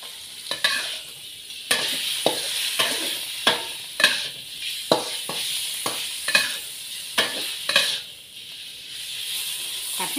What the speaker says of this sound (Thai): ใส่หมู3ชั้นลงไปผัดนะคะ